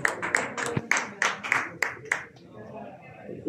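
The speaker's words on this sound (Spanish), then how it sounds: "¡Aplausos!" Applause for the wrestler Dr. Clown at a lucha libre press conference for Arena GDL's fourth anniversary, a few sharp claps ringing out over the announcer's voice and fading toward the end.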